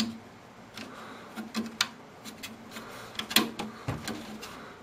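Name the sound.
jammed hard drive bay being handled in NZXT H2 case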